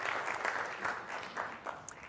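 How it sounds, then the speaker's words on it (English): An audience claps at a business talk, a brief burst of applause with uneven rising and falling waves, heard alone and fairly close. "So give yourself a hand of applause, round of applause."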